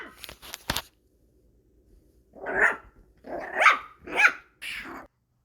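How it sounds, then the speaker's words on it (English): A small dog barks indoors, a quick cluster of sharp yips followed by a pause and then three or four louder, gruff barks, close and loud with no talk. "My little dog wants to play a game."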